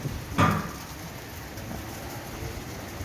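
Steady rain patters in a soft, continuous wash at Ananthapura Lake Temple in Kerala, with a brief louder knock or splash near the start; no voices.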